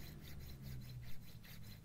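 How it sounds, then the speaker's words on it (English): Repeated back-and-forth rasping of a chainsaw file on a metal rifle part, a quiet, rhythmic scraping of steady strokes heard close and alone. "I took the chainsaw file to it until it fit"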